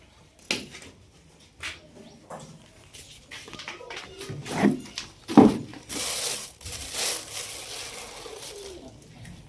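Pigeons coo in short, soft bursts scattered through the clip, with a few louder calls in the middle, against a background of rustling and light noise.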